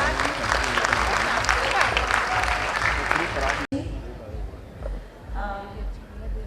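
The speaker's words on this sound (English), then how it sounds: "Can we have a huge round of applause?" Audience applause at a college freshers' party and Inferno 2K24 inauguration, loud sustained clapping from a large crowd that cuts off abruptly partway through, followed by a quieter stretch with a voice speaking.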